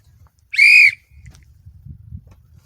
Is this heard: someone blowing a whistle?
yes